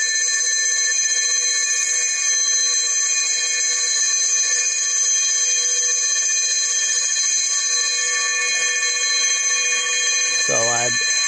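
A bell alarm rings continuously during a commercial gas engineer's timed alarm test, a loud, steady electronic ringing that holds without break. A brief voice cuts in near the end.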